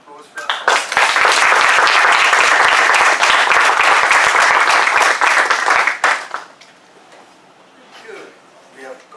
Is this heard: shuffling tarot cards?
no